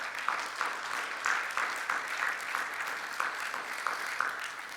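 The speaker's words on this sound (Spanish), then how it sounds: "¿Puedes darle un aplauso de alabanza a Él?" A church congregation applauds in praise during a sermon, a steady wash of many hands clapping at moderate distance, with rhythmic accents pulsing through it and little voice over the top.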